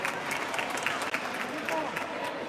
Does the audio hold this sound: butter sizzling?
no